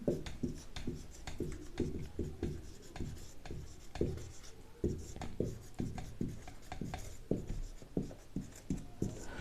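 Pen or chalk writing out the definition of a balanced chemical equation: steady, rhythmic scratching strokes with short pauses between words, close and fairly quiet.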